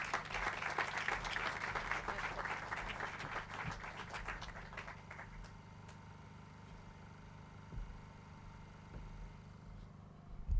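Outdoor applause at a housing authority groundbreaking ceremony fills the first half as a dense crowd clapping, then fades away, leaving a low idling engine hum in the background.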